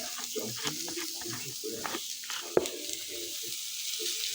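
Onion and green chilli frying in oil for a bhaji give off a quiet, constant, high hiss. A voice talks over it, and a sharp clatter cuts in briefly midway.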